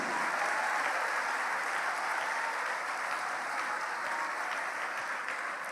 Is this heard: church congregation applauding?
yes